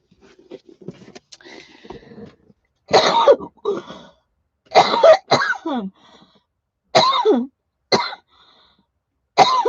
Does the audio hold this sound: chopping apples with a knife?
no